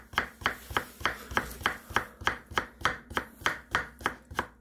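A freshly sharpened chef's knife chopping vegetables on a cutting board, about fourteen crisp, evenly spaced thuds in a steady quick rhythm, close and clear, with no talking.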